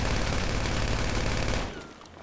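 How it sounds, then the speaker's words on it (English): Rapid gunfire in GTA 5 Online: a dense, loud, continuous volley of shots for about a second and a half, which then cuts off into a quieter tail. "I shot him in the knees"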